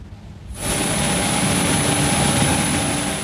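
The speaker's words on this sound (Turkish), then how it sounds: "Antalya Gazi Paşa Alanya Havalimanı'na Rus turist kafilesini taşıyan ilk uçak geldi" Passenger airplane carrying Russian tourists arriving at Gazipaşa-Alanya Airport in Antalya, its steady loud engine roar rising in after half a second and holding as a broad, continuous drone.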